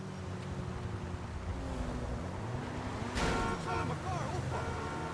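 Sports car engine in GTA Online revving and changing through gears of a seven-speed gearbox, steady drone with pitch rising and dropping at each shift, a voice talking over it.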